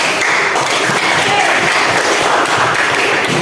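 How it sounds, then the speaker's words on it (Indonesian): A classroom of students applauding at the end of a lesson, a dense, steady wash of many hands clapping together, loud and close throughout with no talk over it. "Ya, untuk semuanya tepuk tangan dulu beri atur."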